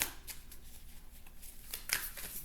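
Playing cards riffled and shuffled up close in a quiet room, a few soft papery flutters and snaps spread across a couple of seconds.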